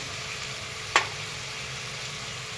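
Onion, chilli and masala sauté in a pan for mushroom pulao with a soft, continuous sizzle and one brief sharp clack of a utensil near the start. No talking.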